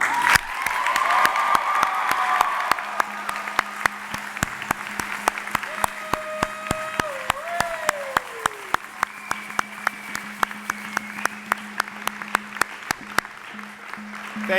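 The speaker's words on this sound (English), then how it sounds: "join me in giving a heartfelt round of applause and cheers to thank the people who helped you reach this special moment in your lives." Sustained applause from a large audience at a university spring convocation, steady dense clapping through the whole stretch with scattered sharp claps standing out, a faint tone and some voices rising over the crowd noise.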